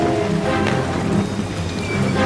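Heavy rain pours down steadily with a dense hiss of drops and faint low rumbles beneath, loud and continuous with no voices.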